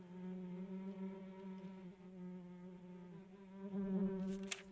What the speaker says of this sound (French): alors par contre les mouches c'est ultra désagréable